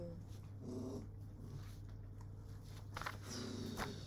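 A dog growling nearby on a property with chickens, a low, rumbling growl with a few scuffling footsteps and faint movement sounds around it.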